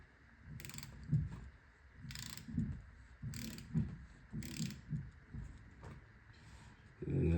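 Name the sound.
tightening with a torque wrench on steering rack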